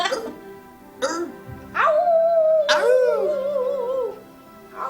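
A small dog named Pee-wee yelps and barks in short bursts, then breaks into a long wavering howl held close and loud, with another dog-like howl rising over it near the end.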